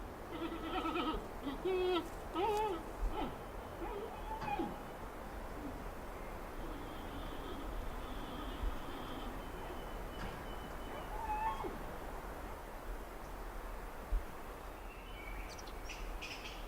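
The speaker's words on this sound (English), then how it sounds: "the sound of loud bleating and chirping raises hopes" Bleating and chirping calls from a wild giant panda, several wavering cries early on and another later, over a quiet outdoor background.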